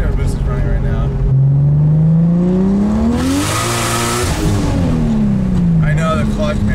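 BMW F80 M3 drift car with a turbo engine revs hard, a loud close engine note climbing in pitch, peaking with a rough roar, then falling away, with voices briefly heard around it.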